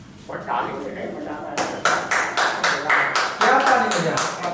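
A group of people claps in a room, sharp hand claps landing in a quick, fairly steady rhythm after an opening stretch of speech, with voices talking around the claps.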